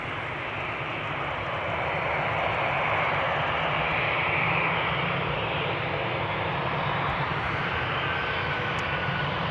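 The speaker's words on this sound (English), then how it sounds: "A319, Lufthansa flight 989" A Lufthansa Airbus A319 jet departs Amsterdam Schiphol with a broad, loud engine roar that holds steady throughout, peaking around the middle with no voices.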